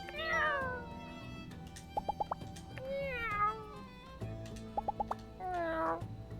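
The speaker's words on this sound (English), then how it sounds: "it's a cat" A cat meows several times in the video game My Time at Sandrock, drawn-out falling and rising cries spaced across the clip, over soft game music with small plucked notes between.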